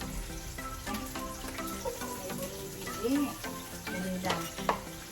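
Ginger and garlic fry in a pan with a constant sizzle and clattering stirring strokes close by, with faint speech under it.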